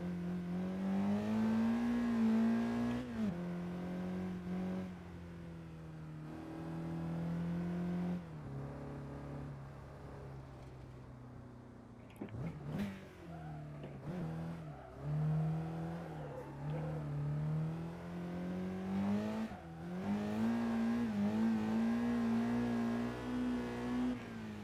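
A stock first-generation pre-facelift Honda S2000 engine revs steadily in a racing video game, its strong sustained tone rising and falling through gear changes with a brief dip midway, loud and continuous with no talk.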